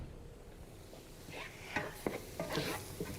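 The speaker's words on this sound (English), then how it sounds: "we're gonna really give that a good stir, make sure all of that flour gets coated in butter" Flour being stirred into melted butter in a pan for a broccoli casserole sauce, heard as soft scraping and a few light spoon knocks over a quiet sizzle, close and fairly faint.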